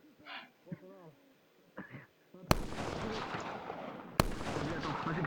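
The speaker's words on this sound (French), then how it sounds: "Les gars, ça tire, il se passe quoi?" Gunfire erupts during a roleplay video game event, two sharp loud bursts followed by sustained rattling shots. Brief voices speak just before the shooting starts.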